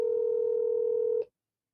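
A steady telephone dial tone hums for just over a second while a call is placed, then cuts off abruptly, leaving silence.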